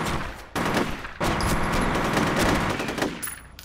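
Rapid automatic gunfire from the shooter game F.E.A.R., loud, dense bursts with short gaps between volleys, no talking.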